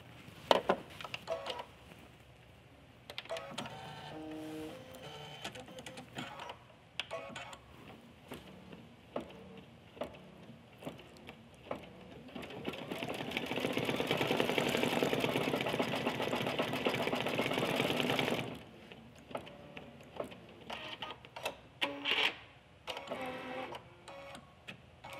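An embroidery machine stitches the white part of a stuffed bear's eyes, droning in a loud, steady run for several seconds amid quieter clicking and handling.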